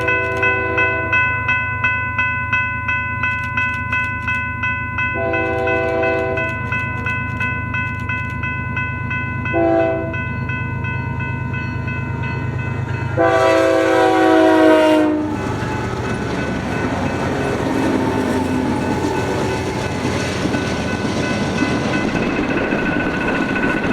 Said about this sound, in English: the westbound Dago, this having BNSF 7163 leading